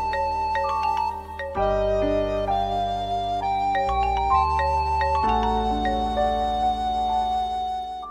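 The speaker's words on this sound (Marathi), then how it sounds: "राधा बिट्टी, फोन आला. ये लवकर ये." A phone rings in a home scene of a Marathi TV serial, playing a steady electronic melody with sustained tones that shift pitch, loud and alone, with no talking.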